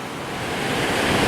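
A flooded creek, swollen enough to break its protective embankment, rushes past in a loud, steady roar of turbulent water with no voices.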